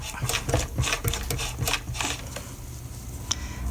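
A serger stitches the seam of a small raglan doll shirt in a short, close-up run of rapid mechanical whirring and clicking that slows and tapers off after a few seconds.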